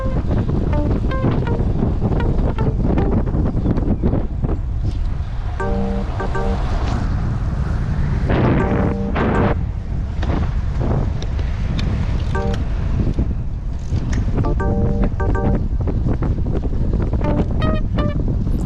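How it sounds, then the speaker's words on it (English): Strong, steady wind roars across the microphone throughout while cycling into a cold, gusty headwind on a lumpy road, a loud continuous buffeting with no speech. "We're just going into this wind, and it's lumpy, and it's just pounding us."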